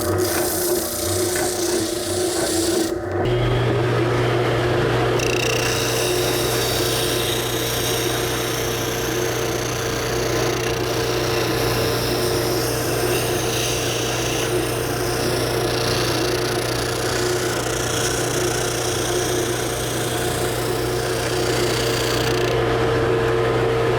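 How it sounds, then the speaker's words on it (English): Oscillating spindle sander running on wood for a kitchen shelf, starting up after a brief pause, then holding a steady motor whine with a gritty sanding hiss throughout. "I'm going to take this over to the oscillating spindle sander, sand that a little bit"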